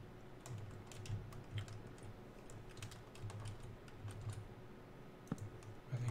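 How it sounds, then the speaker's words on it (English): Soft, quiet clicking of a computer keyboard being typed on in irregular bursts, set against a steady low background hum, with no voices. "I think it is typing."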